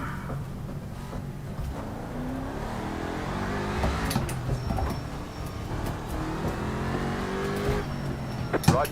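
A race car warms up its tyres on track, the engine revving and easing in repeated rising pulls with a few faint tire squeals, steady and moderately close, with brief talk mixed in.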